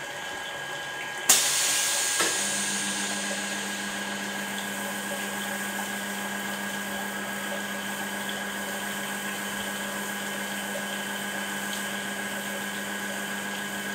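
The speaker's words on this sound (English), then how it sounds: "we'll show you the welding once again." A 100 kVA circumferential seam welder working on transformer radiators, starting with a sharp crack and then settling into a steady electrical hum with a constant hiss, no talking.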